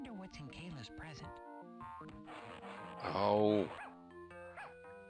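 A dog barks and whimpers in a household where a birthday cake is being prepared, with short yelps and whines mixed among close voices speaking.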